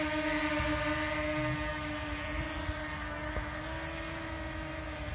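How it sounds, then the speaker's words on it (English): Small camera drone in flight, a steady high-pitched motor whine with buzzing harmonics running continuously and fairly close throughout, with no talking. "There we are. Drone in flight."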